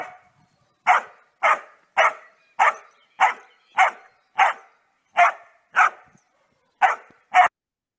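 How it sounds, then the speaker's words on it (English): A dog barks repeatedly in another dog's face, eleven sharp, loud barks at a steady, slightly uneven rhythm, close by with silence between them. "That face barking behavior is not polite in dog communication"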